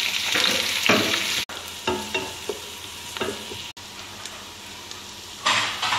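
Onion frying in a pot for chicken stew, a close, steady sizzle with repeated scraping stirs and brief clatters of the utensil against the pot.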